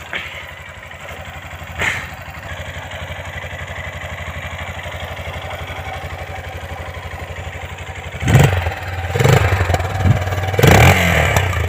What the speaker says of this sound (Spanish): Vean nomás esta moto, chavalada.